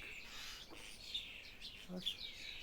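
Faint, high whistling calls and chirps of starlings, a few scattered calls at a distance against a quiet background.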